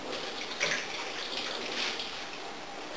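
Sprouted date pits are rinsed under running tap water, giving a steady close hiss of flowing water with slight splashing variations throughout.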